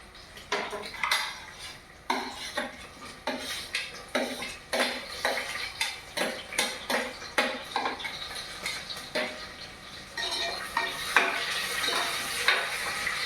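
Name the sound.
onions and green chillies frying for mutton biryani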